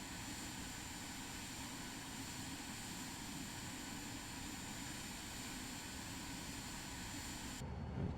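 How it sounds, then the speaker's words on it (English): A small single-engine Cirrus Vision Jet G2 in Microsoft Flight Simulator 2024 roars steadily on the runway as it takes off, a loud continuous engine drone that cuts off abruptly at the end. "Wait for this plane to get off the runway."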